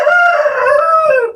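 A rooster on a rooster farm crows once, loud and close, in a single sustained call that falls away at the end.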